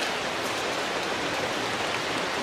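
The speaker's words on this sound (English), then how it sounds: "It's starting to rain again." Steady rain falling in the woods, a dense even hiss of drops on leaves and ground, fairly close and constant with no other sounds.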